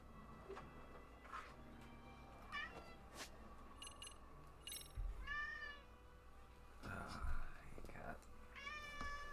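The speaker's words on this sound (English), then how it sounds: "Cat" Several separate meows from a cat in a video game, spread across the stretch between quiet game sounds and faint clicks and ticks, moderately close and clear.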